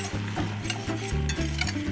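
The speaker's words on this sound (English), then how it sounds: "The butter you whisk in at the very end." Whisk stirring butter into a reduced red wine sauce in a pan, a close, continuous rhythmic swishing and scraping with a faint sizzle underneath, and no talking.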